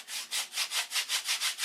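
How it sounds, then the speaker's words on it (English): Wood is sanded by hand with 80 grit sandpaper, rhythmic back-and-forth rasping strokes, about nine even scrapes in quick succession, close and alone. "I'm going to sand it"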